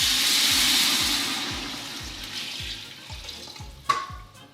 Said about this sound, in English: So we have 8 cups of water, or half a gallon. We're gonna add that into our stew meat